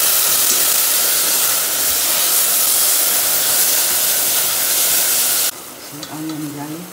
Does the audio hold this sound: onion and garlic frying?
yes